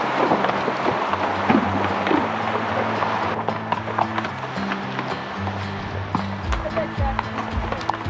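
Pack horses plod along a narrow, rocky backcountry trail, hooves clip-clopping in an uneven, steady rhythm at close range, with wind and someone talking over the hoofbeats throughout.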